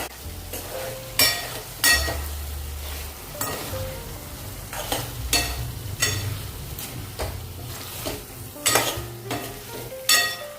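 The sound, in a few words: stirring potato Manchurian with Maggi masala in a pan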